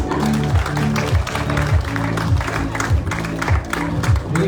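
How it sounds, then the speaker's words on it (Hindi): Applause from the audience at an annual function, steady crowd clapping mixed with loud rhythmic background music and occasional voices. "तालियां तालियां प्लीज।"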